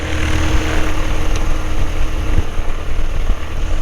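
A 2010 Carbon Cub SS light airplane's propeller engine drones steadily close by, a loud continuous rumble with faint irregular thumps.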